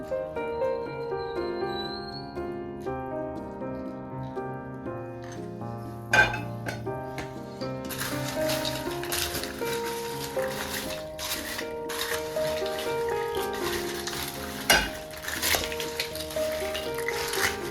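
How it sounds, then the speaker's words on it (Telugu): Crispy fried wheat-flour diamond pieces stirred into sugar syrup in a metal pan, with repeated close scraping and clinking of a spoon against the vessel over a continuous backing of music. "షుగర్ పాకం అంతా దీంట్లో వేసేసుకున్నాము, వేసుకొని బాగా కలుపుకోవాలి"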